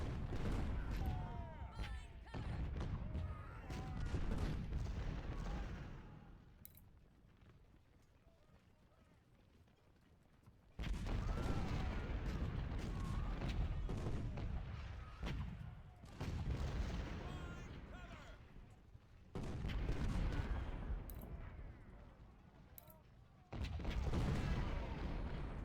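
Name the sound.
cannon artillery fire in video game Ultimate General Civil War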